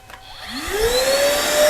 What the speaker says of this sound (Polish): włączamy odkurzacz